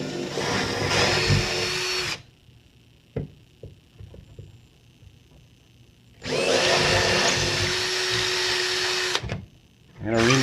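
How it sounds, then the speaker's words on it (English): Power drill with a 3/16 bit boring holes for wall anchors: two loud, sustained whining bursts of drilling separated by a quieter gap of small knocks and handling clicks. "I'm going to put 2 new wall anchors in the same spot using the 3/16 drill bit."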